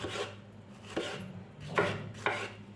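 Four distinct knife chops through peeled tomatoes on a cutting board, spaced irregularly, close and fairly crisp with no talking.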